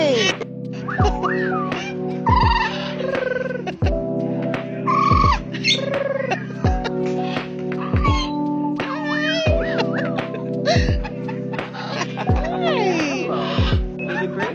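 A baby exotic bird at a free-flight bird sanctuary in Del Mar, California, gives repeated short squawks and chirping calls. A person talks to it in a high, sing-song voice over a steady background hum.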